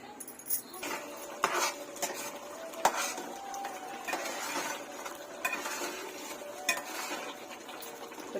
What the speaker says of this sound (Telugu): ఉడుకుతుందండి కూర.